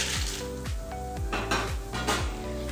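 Peanuts sautéing in a spoonful of oil in a pan for masala sing, with a soft steady sizzle under repeated scraping and clinking of a spoon against the pan, close and alone with no talking.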